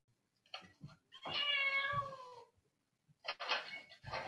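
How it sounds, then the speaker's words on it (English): A cat meows in a puzzle box experiment, giving a few short chirps, then one long drawn-out meow, then more short mewing calls, close and quiet. "A well-practiced cat quickly recalls the actions that help it escape to its reward of food."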